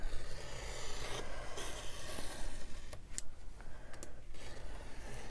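A knife scores through paper over a cutting mat for an embossed fabric journal cover, giving a continuous close rasping scrape with a few sharp clicks, and no talk.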